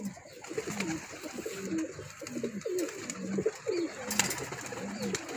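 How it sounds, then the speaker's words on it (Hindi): A net-patterned Teddy pigeon in a breeding setup gives repeated soft, throaty coos in a steady rolling rhythm, close and clear, with faint background noise. "ये कबूतर टैडी कबूतर है, जालदार टैडी कबूतर है ये"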